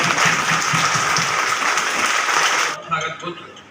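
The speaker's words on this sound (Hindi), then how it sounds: "जोरदार तालियों से स्वागत।" An audience at an Ambedkar Bar Association gathering in Agra gives loud sustained applause to welcome a speaker, then it cuts off abruptly, leaving a few scattered claps and room noise.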